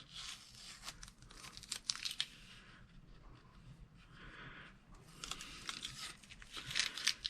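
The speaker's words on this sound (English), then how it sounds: "So we can peel the tape off." Tape peeled off a wooden stock of a 30-40 Krag rifle: quiet close crinkling and tearing rips in uneven bursts, louder near the start and end, with no talking.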